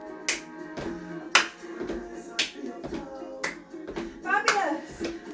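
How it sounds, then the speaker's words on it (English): Hands slap against thighs in a regular beat during a live fitness warm-up, sharp close claps spaced about once a second, with music and a faint voice underneath. "clap your thighs"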